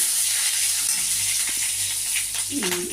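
Green chillies tossed into hot oil with nigella seeds crackle and sizzle steadily in the pan, a bright close hiss with a stirring scrape near the end.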